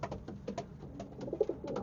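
Racing pigeons in a Belgian loft give soft, repeated throaty coos close by at a low level, with no speech over them.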